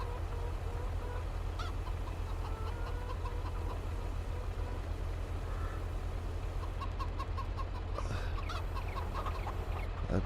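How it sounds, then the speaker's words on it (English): Chickens cluck now and then in the video game Farming Simulator 22 over a constant low background drone, the clucks scattered and moderately faint. "The chickens sound much happier now."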